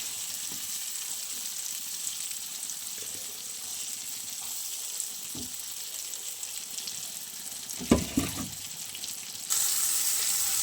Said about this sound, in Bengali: চলো এবার বেগুনটা একটু ভেজে নিই।